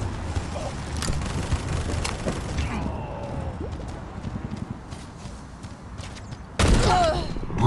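Gunfire in the mobile shooter Guns of Boom: a few sharp shots ring out over a busy game background, with a louder burst of fire near the end. No one speaks.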